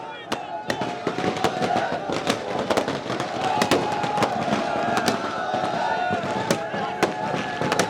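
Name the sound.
fireworks and firecrackers at a celebration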